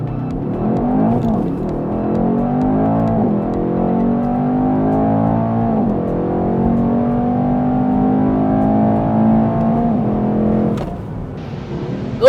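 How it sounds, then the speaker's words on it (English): A 2018 Mercedes-Benz E63 AMG accelerates hard around a race track, its engine pulling loud and steady through long rising sweeps with brief shift breaks, then easing off near the end, with no talk. "I'm just going to take this car around really fast around the BIC track"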